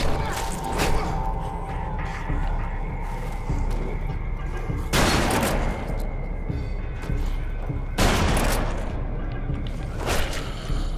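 A shotgun fires in the zombie survival video game Deadlight, three heavy booming blasts spaced a few seconds apart over constant background music and ambience.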